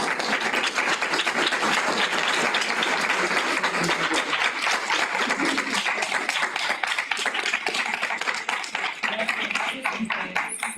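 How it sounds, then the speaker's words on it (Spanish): An audience at a gender-violence conference breaks into sustained, dense clapping, loud and close, holding steady for about ten seconds. "un aplauso."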